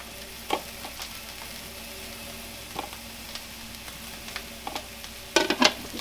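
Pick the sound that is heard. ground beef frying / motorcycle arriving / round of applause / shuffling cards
ground beef frying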